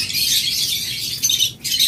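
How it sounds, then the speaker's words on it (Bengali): A large flock of lutino red-eye lovebirds chirping together, a dense, shrill, continuous chatter of many close birds with a brief dip near the end. "এরপরে আপনাদের জন্য রয়েছে হিউজ পরিমাণ লুটুনু রেড আই লাভবার্ড।"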